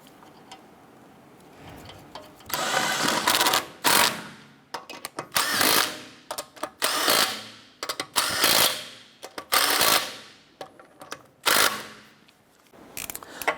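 A power tool snugs down lug nuts on a 2008-2012 Honda Accord wheel in a string of about a dozen sharp, whirring mechanical bursts, each rising and cutting off, separated by brief pauses.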